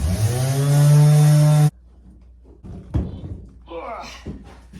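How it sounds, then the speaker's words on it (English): A power sander runs loud and steady on the transom of a 14 ft StarCraft boat for under two seconds, then cuts off, leaving scraping, thumps and handling noises. "I'm a little nervous about sanding it because I don't want the dust to get on my freshly stained boards"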